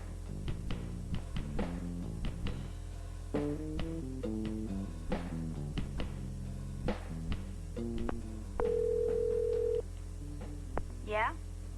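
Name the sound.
digital cellular phone ringing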